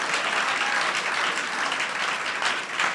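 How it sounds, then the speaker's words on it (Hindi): A worship congregation claps loudly and continuously in praise, a dense, even roar of many hands at close range with no gaps, sustained for the whole stretch without speech. "जितने विश्वास करते हैं जोर से ताली बजा के प्रभु को महिमा दे, प्रभु को महिमा दे, जोरदार ताली बजा के।"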